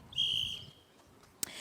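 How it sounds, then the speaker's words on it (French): A referee's whistle sounds once, a clear sustained shrill tone lasting about half a second at a televised children's game show, followed by a brief sharp click. "Au coup de sifflet"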